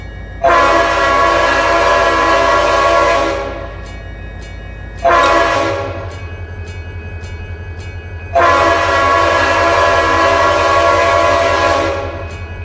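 A diesel locomotive horn sounds at a level crossing in the Run 8 train simulator game, three loud sustained blasts, two long with a short one between, over a low engine rumble.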